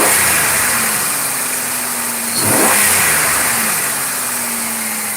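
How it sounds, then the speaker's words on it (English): A modern car engine holds a steady idle, swells into a short rev in the middle, then settles back to a smooth idle, heard close and alone. "Already I hear a little less clatter in the engine."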